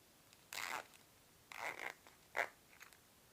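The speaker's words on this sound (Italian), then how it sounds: "Completata la cucitura, provo la cerniera più volte, aprendola e chiudendola." Zipper on a handmade monster pencil case zipped open and shut three times, each a short bright rasping pull close by, separated by brief pauses in a quiet room.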